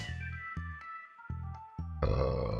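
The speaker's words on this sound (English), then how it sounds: "I burped on camera" A short, low croaky burp stands out, close and fairly loud, with a few other brief sounds around it.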